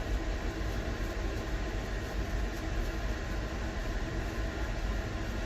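A long freight train rolls past up close, a steady dense rumble of wheels and railcars holding at one level throughout with no voices.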